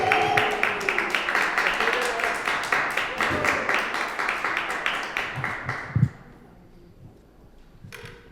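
Crowd applause for a comedian at a live comedy show at Väsen Brewing Co. in Richmond, Virginia: steady dense clapping fills the room for about six seconds, then fades out to quiet.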